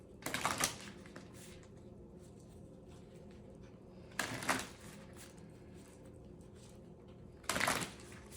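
Tarot cards shuffled and drawn from a deck during a reading, three brief papery riffling bursts spaced several seconds apart, close and fairly quiet against a soft background hum.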